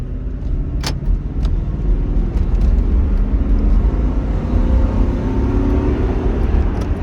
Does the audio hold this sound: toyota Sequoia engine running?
yes